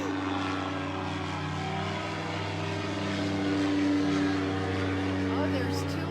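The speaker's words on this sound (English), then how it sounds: "so it'll get a little noisy when the planes go by." A propeller airplane flying past over a river, a steady droning hum that swells slightly mid-clip, heard continuously beneath nearby conversation.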